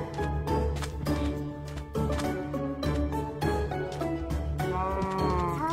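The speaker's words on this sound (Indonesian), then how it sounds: "Sapi." Cattle lowing in Minecraft, a run of repeated deep moos heard clearly and close, one after another with no talk over them.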